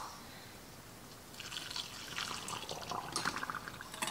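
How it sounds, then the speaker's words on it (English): Broth is poured into a canning jar packed with chicken and beef, a soft trickling and splashing of liquid that starts after a quiet moment and runs on, faint and close. "We're gonna fill this up with broth."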